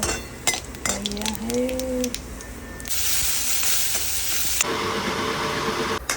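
Cumin seeds hit hot oil in a small pan and burst into a loud, steady sizzle that swells to a dense hiss, with metal utensil clinks and a brief voice just before.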